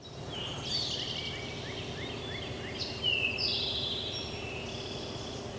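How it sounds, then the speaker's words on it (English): Birds sing at a campground at sunrise, with several chirps and short whistled phrases coming in bursts from a moderate distance over a steady low outdoor hum. "I love hearing the birds out here."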